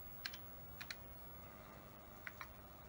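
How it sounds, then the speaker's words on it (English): Typing on a TRS-80 Color Computer keyboard: a handful of sharp clicky keystrokes in small pairs spaced through a quiet room, faint and close with a soft hum beneath. "This keyboard is not the most fantastic thing to type on."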